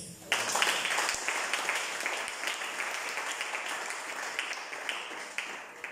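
A church congregation applauding together, a dense, sustained wash of clapping from many hands that starts abruptly and continues steadily throughout, moderately loud and filling the room.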